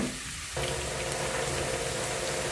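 Drumstick flowers frying with garlic in a pan, a broad steady sizzle after a brief quieter start, close and even, with no voices.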